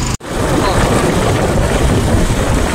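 Steady wind rushes loudly past the microphone during a vehicle ride near Kaziranga in Assam, a constant broadband roar after a brief dropout at the start, with no clear voices.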